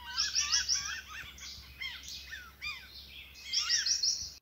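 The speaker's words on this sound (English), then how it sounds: "And this is what Weird Yellow sounds like" Abnormal song of a single yellow warbler: a clear, moderately loud run of chirpy whistled phrases with odd swooping, slurred notes in the middle, opening and closing with quick trills, no voices present.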